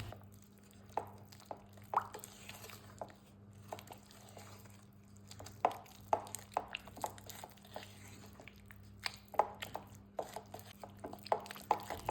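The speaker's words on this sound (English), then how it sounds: "Give the mixture a stir." A spoon works through a biscuit mixture of vegetable oil and vanilla essence, making quiet wet squishes and taps in an irregular rhythm over a low hum.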